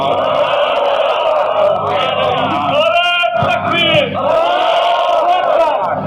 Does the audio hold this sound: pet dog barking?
no